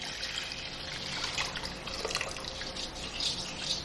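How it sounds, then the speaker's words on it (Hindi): Water trickles and splashes steadily into kadhi pakora batter, a gram-flour mixture, in a home kitchen, a continuous soft pouring sound with no talk. "अब मैं इसमें पानी डाल रही हूँ।"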